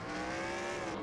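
A race car engine in NASCAR Racing 2003 at the Pennsylvania 400 drones steadily for a brief moment, its tone faint and distant.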